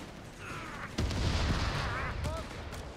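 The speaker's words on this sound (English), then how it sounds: "there goes a sticky bomb." A sticky bomb goes off in Company of Heroes 3 with a sudden loud, deep blast partway through, and the low rumble lingers. Gunfire crackles faintly nearby and short in-game voice callouts sound before and after.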